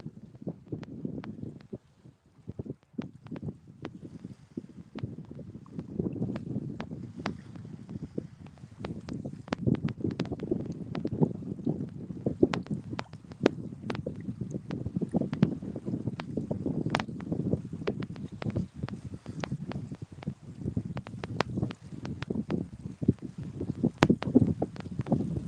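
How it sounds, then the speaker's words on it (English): Wind gusts across the Mississippi River on a February day while fishing from a boat over a wing dam for catfish, a steady low rumbling buffet with sharp knocks and clatters scattered throughout, fairly loud and continuous with no voices. "I think that dang wind's picked up harder since we got out here"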